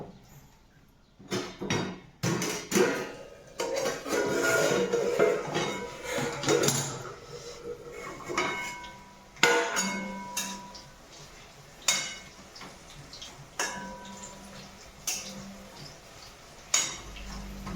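Chillies crackling and popping in a covered pan over a fire, irregular sharp pops and clattering bursts scattered over a sizzling bed, close and fairly loud with no talking.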